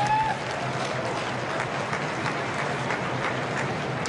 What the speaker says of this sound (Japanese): 皆様どうぞ大きな拍手をお願いします。